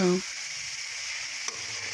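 Chicken pepper dry sizzles and crackles softly as it roasts in a pan, a steady frying hiss with light stirring and a brief click partway through.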